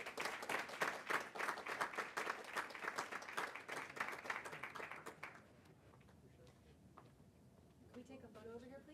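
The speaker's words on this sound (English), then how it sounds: "let's give Mr. Valentine a round of applause" Audience applause after a board of education meeting speaker is honored, sustained clapping for about five seconds that then fades into room noise.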